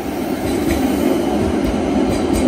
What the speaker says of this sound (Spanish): Esos son los tranvías de aquí del centro.